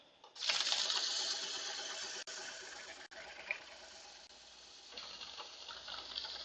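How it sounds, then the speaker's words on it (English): A rotary sander fitted with 180-grit paper runs at about speed 500 over ash wood, giving a steady, close whirring hiss with a couple of brief dips in tone. "So we'll try the rotary sander first. Speed's about 500 and 180 grit."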